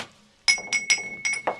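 Hot, freshly unloaded kiln-fired ceramic pots with alkaline glaze are knocked together, giving several bright, clear clinks that ring on with sustained tones, struck in quick succession at close range.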